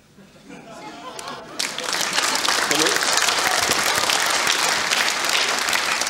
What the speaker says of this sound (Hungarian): Ez olyan kegyelem taps volt